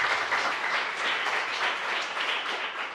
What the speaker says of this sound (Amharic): አንደኛ ለወጣው ለበረከት አበራ ሞቅ ያለ ጭብጨባ